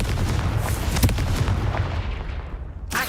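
Fiery Confringo spell blasts in the Hogwarts Legacy game, a dense rumbling burst of booming, gunfire-like impacts that rolls on loudly for a few seconds before thinning out, with no talking.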